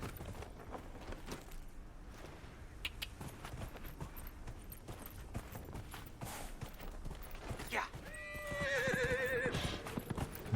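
Horse hooves clip-clop in Dragon Age: Inquisition, a quiet irregular patter of steps with a horse whinnying near the end.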